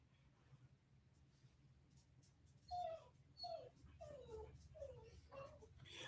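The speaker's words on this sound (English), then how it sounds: "Can you please quiet your dog or take her outside, please?" A dog whimpers and yips in a series of short, rising whines, faint and somewhat distant, repeating every half second or so over a quiet room hum.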